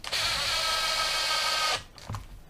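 Hikoki cordless driver with a 1/4" chuck running a screw in, one steady loud whir lasting under two seconds before stopping abruptly, followed by faint handling noise.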